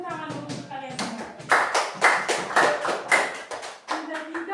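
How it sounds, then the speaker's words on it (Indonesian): A classroom of young schoolchildren breaks into rhythmic group clapping in quick bursts of patterned beats, loud and close, with children's voices chanting along at the start and between claps. "Tepuk tangan dulu untuk kalian semua."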